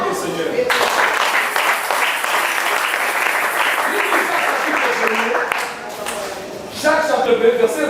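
A church congregation applauds at a Sunday worship service, steady dense clapping sustained throughout, dipping briefly near the end before swelling again, with voices mixed in.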